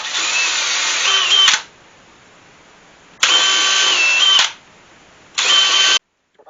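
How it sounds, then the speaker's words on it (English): A power drill bores holes along the seam of a weathered 40-year-old oak slab in three loud close bursts of steady whine, each ending in a quiet pause, with no talking. "drill a row of holes in the seam"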